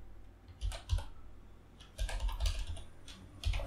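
Quick bursts of typing on a computer keyboard during a Fedora Silverblue 32 setup, clusters of soft close key clicks separated by short pauses.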